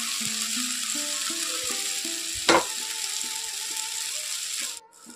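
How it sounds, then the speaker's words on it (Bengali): Drumsticks and potatoes frying in spice masala in a pan, a steady close sizzle with a sharp clatter as the pieces drop in, fading out at the end; background music plays throughout. "এখন আমি এর মধ্যে দিয়ে দিচ্ছি যে সজনে ডাঁটা আর আলুটা কেটে রেখেছিলাম সেটা এখানে দিয়ে দিলাম।"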